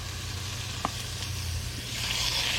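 Catfish frying in a little olive oil in a pan, giving a soft, steady sizzle over a low background hum with no talking.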